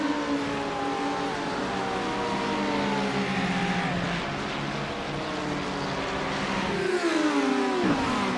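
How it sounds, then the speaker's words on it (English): GT3 race cars in a sim racing game roar past in a pack, several high-revving engines layered together with rising and falling pitch, loud and continuous, with a sharp downshift near the end. "There's your top 10 cars heading through there."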